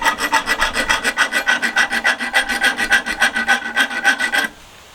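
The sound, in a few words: thread chasing comb repairing a screw's thread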